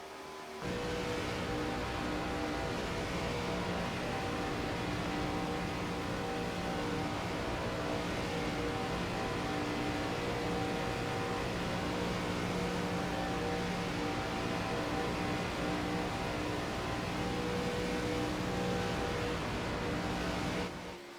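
ARCA Series stock cars circle Daytona in a continuous, unbroken engine roar lasting about twenty seconds, a dense droning wall of sound with steady tonal hum and no voices.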